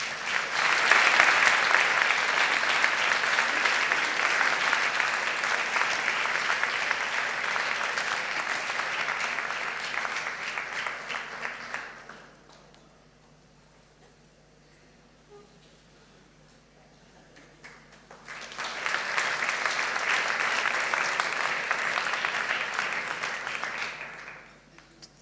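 A church congregation at a special service claps in two long bursts of dense, steady applause, with a quiet pause between them filled by faint room sound.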